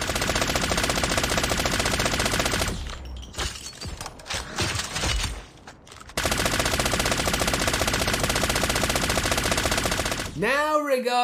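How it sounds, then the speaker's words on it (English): Mythic M13 rifle firing in Call of Duty, a futuristic, alien sci-fi gun sound: loud, dense rapid-fire bursts that break off into scattered shots, resume in a long sustained stream, then end with a warbling, swooping electronic tone. "The Mythic M13 also has awesome firing sounds."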